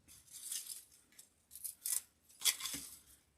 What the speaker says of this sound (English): Now what I'm going to do is I'm going to cut the pink